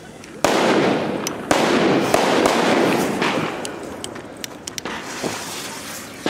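Fireworks and firecrackers in Valencia crack and bang in a dense, sustained barrage, with sharp close reports over a rumbling roar that thins into scattered pops, and people talking now and then.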